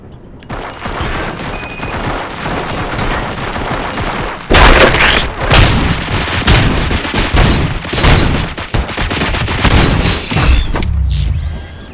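Gunfire volleys from the Robocop: Rogue City video game, a loud, sustained barrage of overlapping shots and booms with mechanical clatter, starting after a quieter opening and continuing almost without pause.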